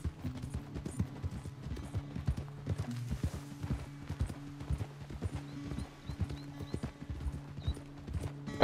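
A horse trots in the video game Red Dead Redemption 2, with steady rhythmic hoof clip-clops, a soft whinny and a faint mechanical hum underneath, and no talk over it.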